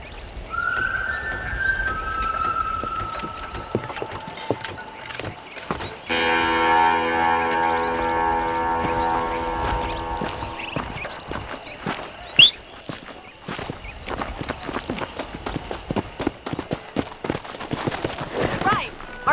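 In the Red Dead Redemption video game, a cattle herd and horses on pasture give a long, drawn-out moo over steady hoof clops and footsteps, with scattered clatter and outdoor ambience throughout.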